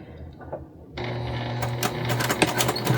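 A sewing machine stitches the corners of quilted fabric baskets together. After about a second of near quiet, a steady motor whir starts close by and runs to the end, with small clicks over it.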